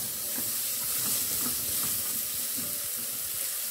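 Carrot and oregano sizzling and frying in a pan for Greek-style rice, a steady close crackle with faint stirring, no voices.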